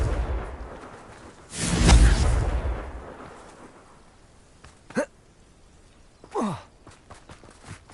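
Hogwarts Legacy Confringo blasting spell erupts as a broad, fading whoosh-burst near the start, followed later by two short sharp crackling zaps against a quiet background.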